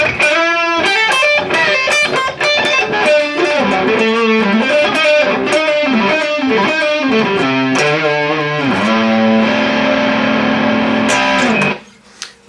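Electric guitar played through a Joyo JF-303 Little Blaster crunch overdrive pedal, loud distorted riffs with chugging chords and single-note runs, then a sustained ringing chord that cuts off abruptly.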